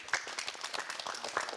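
Brief applause from an audience at a youth panel debate on industrial employment, a scattered patter of claps at moderate level, faintly thinning across the short stretch.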